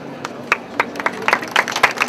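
Scattered hand claps from a small assembly audience in Madrid, sparse and uneven rather than a full ovation, fairly close and moderately loud.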